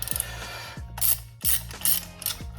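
A ratchet clicks in short repeated bursts while turning a strut nut during a difficult suspension job, loud and close, each stroke followed by a brief pause as the handle swings back.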